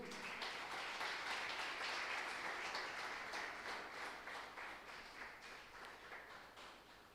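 A church congregation claps during a sermon, a steady, faint wash of many hands with rhythmic pulses that slowly eases off.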